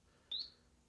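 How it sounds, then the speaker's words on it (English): A single short rising electronic chirp from a small speaker, caught by a homemade dynamic microphone during a sonar demonstration; one quick faint sweep over quiet background hiss. "So you're going to start hearing some chirps."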